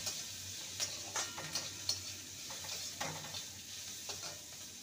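Grated ginger with chopped green chillies stirred briefly in a frying pan, a soft steady sizzle broken by scattered light scraping taps of a spatula.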